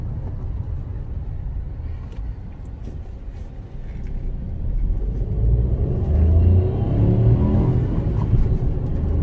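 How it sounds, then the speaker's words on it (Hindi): A Ford EcoSport's engine rumbles at idle, then revs up into a louder, deeper roar that swells over several seconds before easing slightly. "इस गाड़ी को अब मैं थोड़ा सा रेव करता हूँ।"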